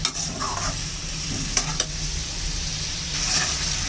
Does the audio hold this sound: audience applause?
no